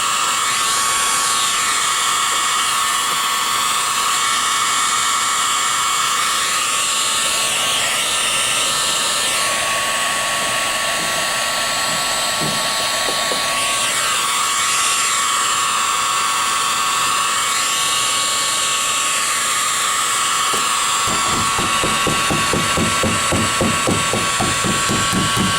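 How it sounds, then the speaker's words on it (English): A heat gun blows continuously as it shrinks wrinkled vinyl on a Burger Time arcade cabinet, with a loud, steady whooshing whine and a faint rhythmic rattle toward the end. "The heat gun shrinks the vinyl."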